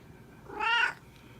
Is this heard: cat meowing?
yes